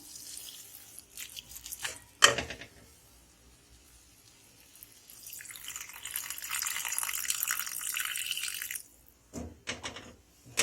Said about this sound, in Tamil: கொஞ்சமாக தண்ணி ஊற்றிடுங்க